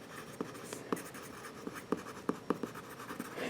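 Marker or chalk strokes on a board sound as a series of short, uneven scratchy taps and squeaks, clear and fairly close in an accounting lesson, with no talk over them.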